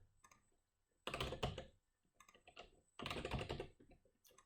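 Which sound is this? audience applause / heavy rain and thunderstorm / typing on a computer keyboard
typing on a computer keyboard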